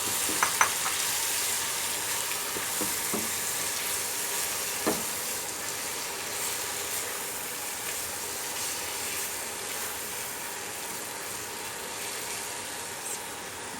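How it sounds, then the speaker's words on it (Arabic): Onions sautéing in hot ghee in a pan, a steady broadband sizzle with a few sharp clicks and scrapes of stirring near the start, continuing evenly without any voices. "انا شوحت البصل"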